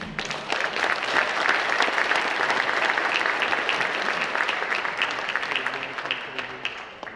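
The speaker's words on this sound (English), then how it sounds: "Please give yourselves a round of applause." A crowd at a sports officials' hall of fame induction ceremony applauds steadily, a full sustained wash of clapping that swells and then tapers toward the end.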